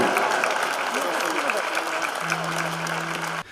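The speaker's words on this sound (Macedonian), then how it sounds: "Да го поздравиме со еден силен аплауз." Large outdoor crowd at a papal Mass applauding the Pope, a broad, continuous roar of many hands clapping with crowd voices mixed in and a steady tone sounding behind it near the end.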